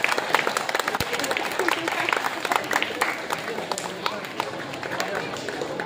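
Audience applause at a prize distribution ceremony, a steady broad wash of many hands clapping throughout, moderately loud and sustained, with no talk over it.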